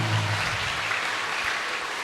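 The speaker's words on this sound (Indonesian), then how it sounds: "Tepuk tangan untuk kita semua." Audience applause at an Islamic religious lecture, steady, dense clapping throughout with a low hum under it at the start.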